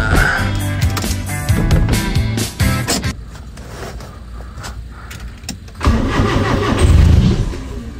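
An old Nissan Sentra under restoration cranks with its starter, catches and settles into a running engine, loud and close, with a brief whirring lull before it revs up again.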